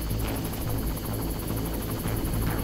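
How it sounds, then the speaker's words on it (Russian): A helicopter in the Far Cry video game drones loudly and steadily, its rotor chopping in a fast even pulse throughout with no talk over it. "Че, вертолет?"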